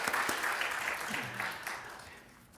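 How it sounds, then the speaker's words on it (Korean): Brief applause from a church congregation at a Sunday worship service, moderately close, fading over a couple of seconds, with faint voices mixed in. "할렐루야와 함께 박수로 환영해 주시기를 바랍니다"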